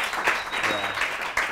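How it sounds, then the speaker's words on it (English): Weak, short burst of audience clapping from a seated crowd at a talk, scattered and thin, mixed with voices and a brief vocal sound. "That clap is too weak"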